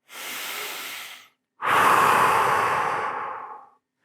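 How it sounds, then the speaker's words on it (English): Two deep breaths, a long inhale and then an even longer, louder exhale, sound close and clear in an otherwise silent room. "I want you to take a deep breath in, deep breath out."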